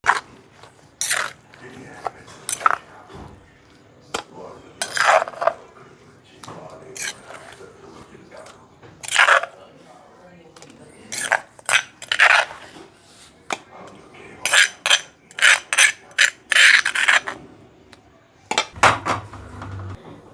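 Tamarind chutney made from raw tamarind is scraped from a stone mortar onto a plate, with repeated gritty scrapes and knocks of stone and steel in irregular bursts, close and fairly loud, with someone speaking between them.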